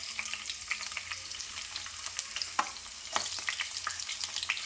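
Green chillies and onions frying in hot oil, a steady crackling sizzle with scattered sharper pops and occasional scraping stir sounds, close and without talk.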